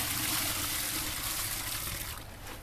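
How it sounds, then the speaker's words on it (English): Water is poured from above onto a bag of dry concrete mix while a stainless steel yard sculpture is being set, giving a close, steady rushing splash that thins and fades toward the end. "What I'm going to do is I'm going to pour water in there"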